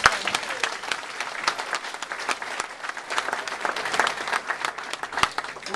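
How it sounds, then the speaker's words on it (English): Sustained audience applause at a Millers Run Refund community event, dense steady clapping from a crowd at close range, holding evenly throughout with no talk over it. "So give yourselves a round of applause."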